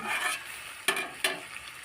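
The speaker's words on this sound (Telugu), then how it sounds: "అలా అలా అలా అలా కలిపేసేయాలి ఇంకొక త్రీ మినిట్స్ మంచిగా ఉడకాలి" Chicken curry being stirred in a pot in a village setting, soft sizzling bubbling throughout, with two sharp scraping strokes of the spoon against the pot close by.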